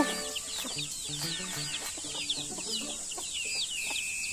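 Several hungry backyard hens cluck and chatter in quick, uneven bursts close by, with chirping birds and a steady high buzz behind them and no speech.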